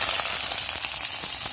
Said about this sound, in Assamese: পিঁয়াজ মোটামুটি ভাজা হৈ গ'ল